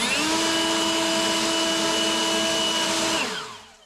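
An EGO LB7654 battery-powered leaf blower fitted with a spread nozzle runs with a steady, loud whining rush of air for a few seconds, then spins down and fades out, with no speech.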